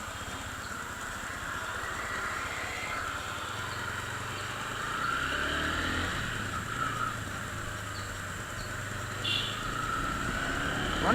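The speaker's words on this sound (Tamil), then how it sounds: "Nice beat. ரோனில் எனக்கு பிடிச்ச விஷயமே வந்துட்டு அந்த பீட்டு தான்." TVS Ronin 225cc motorcycle engine with a steady, low rumbling beat heard continuously and fairly close, over road and wind noise while riding in urban mode.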